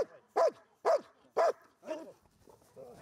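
Police service dogs at a kennel give a series of loud, sharp barks at a steady pace, then softer whines and yips trail off at the end.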